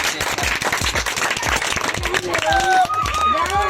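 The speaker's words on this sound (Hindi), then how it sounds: "बहुत बहुत तालियां इनके लिए।" Children and adults applaud the winner of a general-knowledge quiz competition for kids; steady, busy clapping runs throughout, with a voice and some tonal sound rising near the end.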